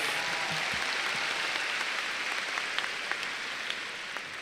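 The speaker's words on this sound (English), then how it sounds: "Let's give another round of applause for Julian." A large crowd applauds at a high school graduation ceremony, a broad, sustained rush of clapping with scattered sharper individual claps standing out, slowly easing toward the end.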